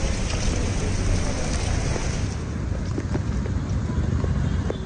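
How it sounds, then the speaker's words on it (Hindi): Heavy torrential rain pours down in Mumbai under a red alert, a dense, loud, steady roar of falling water that continues without pause. "तो बेतहाशा बारिश,"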